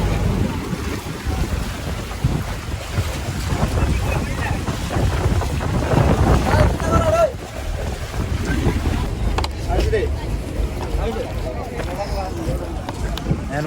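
Passenger boat carrying riders to a remote island in Sri Lanka, its engine and rushing wind making a steady, loud broadband roar with water wash throughout, dipping briefly midway.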